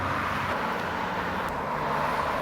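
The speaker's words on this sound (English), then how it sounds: "The road noise too" Steady, distant road traffic in a suburban neighborhood, heard as a constant low wash of passing-car rumble with no distinct vehicles standing out.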